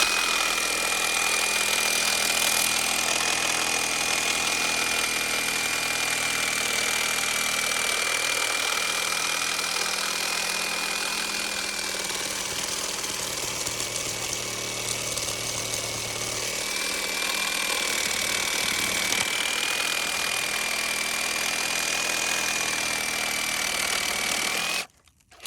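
Power tool cutting trees near a fire, running continuously at a high steady whine with grinding texture for about twenty-five seconds, loud and close, then cutting off abruptly at the end.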